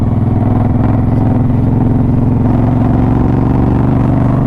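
A motorcycle engine climbing uphill drones loud and close with a steady throbbing rumble under load, holding a constant pitch throughout.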